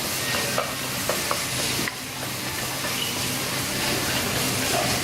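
Rice stir-frying quickly in a hot pan during a Thai cooking class in Bangkok, with a continuous loud sizzle and a few scraping spatula strokes.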